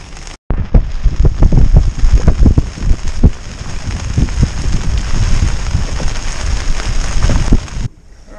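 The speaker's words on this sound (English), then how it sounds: "Oh great, now it's raining." Rain patters and drums loudly on a nearby boat top with dense, irregular hits and gusty noise on a lake, then stops abruptly near the end.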